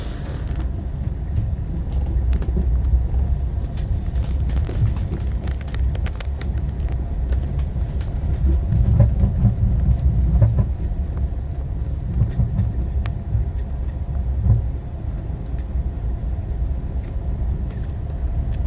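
Steady low rumble and rolling drone from inside a Heathrow automated pod vehicle running between car park stations, continuous for the whole stretch with small rattles and no talk.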